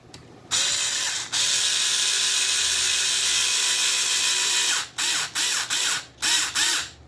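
A ratcheting screwdriver tightens a 6 mm screw into a 3D-printed Nerf Masterkey blaster part, a long loud continuous ratchet whir followed by several short clicking bursts, close up with no talking.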